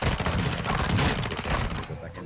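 Dense rapid gunfire from a video game shootout, loud and sustained for about two seconds as bursts overlap, then easing off toward the end.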